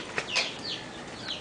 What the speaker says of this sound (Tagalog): Asyan mga manok.